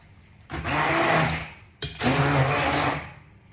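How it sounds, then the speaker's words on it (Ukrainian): A food blender whirs loudly in two bursts, about a second and a half each, separated by a brief pause, then stops, blending liver pâté ingredients. "Так, все додала і зараз буду блендерувати."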